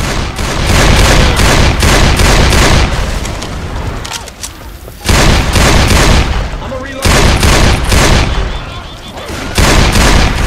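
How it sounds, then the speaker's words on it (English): A pipe bomb going off in Left 4 Dead 2 amid heavy gunfire: loud, continuous booms and rattling shots with a couple of brief lulls, with voices mixed in. "Hey, pipe bomb."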